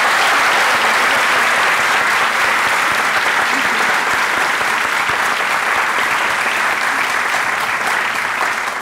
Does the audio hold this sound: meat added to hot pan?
no